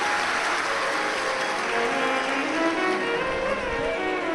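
Loud, steady applause from a large audience at a Shiv Mahapuran katha, with dense clapping that holds unbroken from start to finish.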